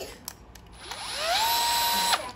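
A cordless drill with a 5.2 Ah battery spins up with a rising whine that settles into a steady high-pitched hum, then cuts off abruptly, preceded by a few faint clicks.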